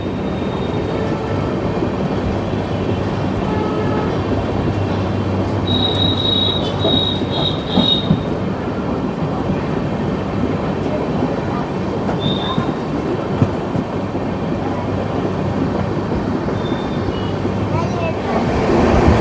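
The Odisha Sampark Kranti express, running from Tatanagar toward Delhi, rolls steadily on the rails with a continuous rumble, rhythmic clickety-clack and several high wheel squeals, heard from on board.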